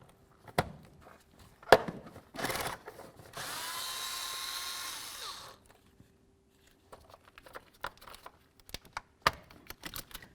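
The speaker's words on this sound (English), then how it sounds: "Let's go ahead and remove this bolt that's holding our wiring harness." Power tool spinning out a wiring harness bolt on a 2003-08 Toyota Matrix, one steady whir lasting about two seconds, with scattered clicks and clanks of metal handling before and after.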